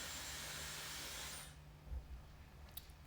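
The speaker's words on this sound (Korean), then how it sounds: "아, 청소기 아니고 드라이기 소리입니다." Hair dryer blowing in a room, a loud steady roaring hiss that cuts off partway through, followed by quieter room noise and a few faint knocks.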